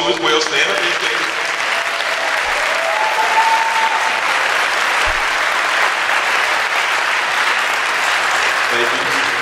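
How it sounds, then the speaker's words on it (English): Loud, sustained audience applause for educators at an honors day ceremony, a thick continuous roar of many hands clapping close by, with faint cheers woven through. "You give them a big round of applause too as well."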